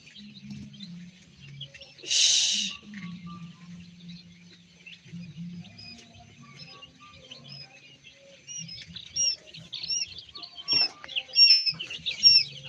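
Quail at a quail farm in Bhola district, Bangladesh, give many short high chirps and calls, scattered at first and growing denser and louder toward the end, with a low murmur and one brief burst of noise early on.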